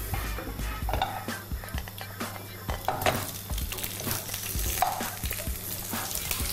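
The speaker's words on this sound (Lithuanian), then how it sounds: "Kol šonkauliai kepa," Pork ribs fry in hot oil for Chinese cooking, a steady loud sizzle and crackle with occasional stirring scrapes and clinks of utensils against the pan.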